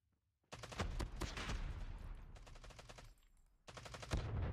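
Rapid automatic gunfire rings out in the mobile shooter game COD Mobile, with a dense sustained burst, a short lull of quieter shots, then another loud volley, all close and without talk.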